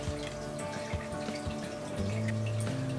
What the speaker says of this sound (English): there's a slight trickling sound, and that's the sound of the water entering the overflow box at the front